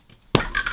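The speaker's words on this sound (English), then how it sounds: "listen out for the glass ball opening the seal, the pressure becoming atmospheric on the top and the bottom" A glass Codd bottle is opened as the marble seal gives way, a sharp glassy clink followed by a hissing fizz of escaping gas that carries on to the end.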